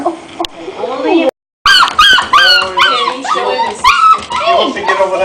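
A small new puppy whimpers and yaps in a rapid run of high, squeaky whines and short yips, close and loud, with a brief silent break early on.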